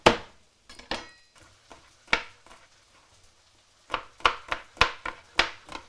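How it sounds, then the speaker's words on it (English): A knife chops garlic on a cutting board with sharp, close taps, first in scattered single strikes with pauses, then in a quicker run of about half a dozen even chops toward the end. "we can get started on our garlic, which is something else that we have to chop"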